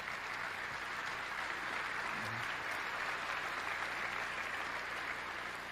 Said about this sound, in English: Were my children applauding there?